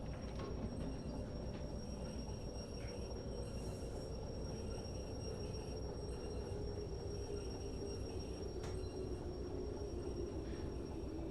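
A train hauling a flatbed car rolls and starts braking in Derail Valley, a steady low rumble of wheels and rail noise running unbroken throughout, with faint metallic squeals and clanks rising above it.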